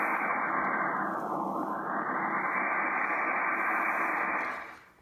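A tone from a Drake R4C receiver tuned on upper sideband, heard as steady, loud, noisy radio hiss with a filtered band whose edge briefly dips, then fades out at the end.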